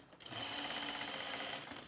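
A sewing machine stitching a shirt seam with a shearing stitch, running in one continuous fast whirring burst of close, even mechanical chatter that starts up and winds down within two seconds.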